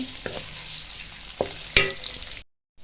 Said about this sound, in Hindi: अब हम अपने ऑनियंस को लाइट गोल्डन होने तक फ्राई करेंगे।